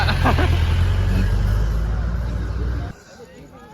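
Jeep climbing the Palamalai Siddheshwaran hill road, its engine a loud, steady drone with road rumble and voices talking over it, cutting off abruptly near the end into quieter background.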